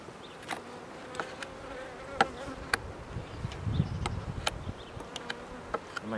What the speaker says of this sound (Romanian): Le poți lăsa ca să poată circula albinele de pe partea pe alta.